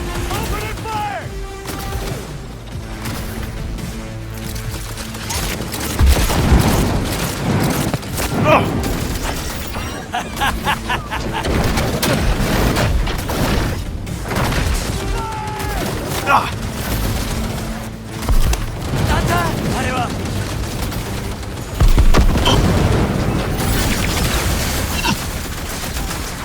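Combat in the Cyberpunk 2077 video game: dense bursts of automatic gunfire and heavy booms crash throughout, loud and close, layered over tense music and intermittent voices speaking.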